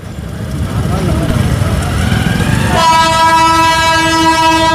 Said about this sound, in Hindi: आवाज़ सुनाई देने लगी है ट्रेन की, टूं